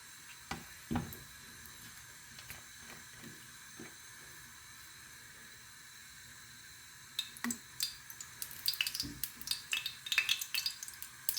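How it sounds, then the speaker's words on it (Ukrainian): Steady frying sizzle and hiss of potato pancakes with meat filling in a pan, with occasional spoon clinks and scraping that grow busier toward the end. "Зараз переходжу до плити і буду смажити."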